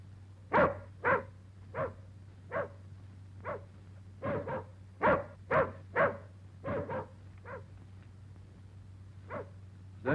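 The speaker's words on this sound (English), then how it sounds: "Is that your dog outside?" A dog tied up outside barks repeatedly in an uneven rhythm of about a dozen sharp barks, loud and fairly close, over a constant low electrical hum.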